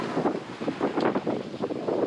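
Wind gusts across a sailboat at sea under reefed sails, around 14 knots, in a steady, rushing roar that swells and buffets the microphone without pause, with no talking.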